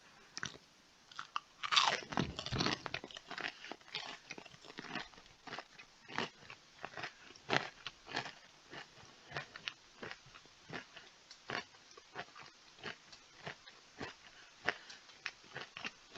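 Crunchy snack food being chewed during a roadside truck breakdown, giving loud, close crisp crunches in irregular bursts, heaviest near the start and then continuing as steady lighter bites with no talking.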